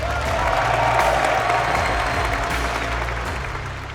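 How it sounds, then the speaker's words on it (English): A large crowd applauds at a college football gathering: dense, continuous clapping that holds steady and loud for about four seconds, thinning slightly toward the end. "Give yourselves a round of applause."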